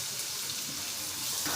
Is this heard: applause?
no